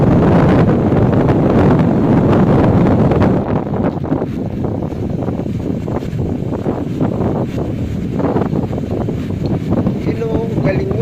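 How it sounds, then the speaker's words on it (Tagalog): Strong wind at Blackwall in Laurel, Batangas buffets the microphone in a steady roar, with rumbling gusts throughout and voices faintly talking underneath. "yung hangin na humahampas sa katawan mo, ang lamig."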